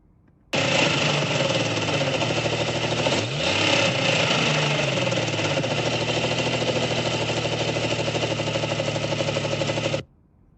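A vehicle engine runs steadily and loud for about ten seconds, with a brief rise in pitch partway through, then stops sharply.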